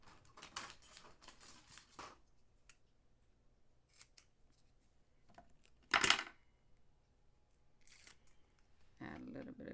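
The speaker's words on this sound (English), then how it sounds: "Scissor." Scissors snip paper trimmings for a handmade card, a few short crisp cuts spread across a quiet workspace alongside soft handling taps and one sharper click.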